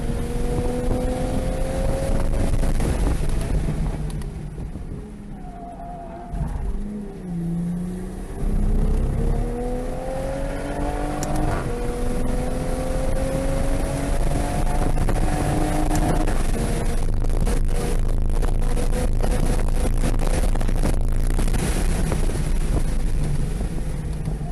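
A car engine drones through a lap at Laguna Seca raceway, its pitch climbing and falling with gear changes and corners under heavy wind buffeting, loud and steady throughout.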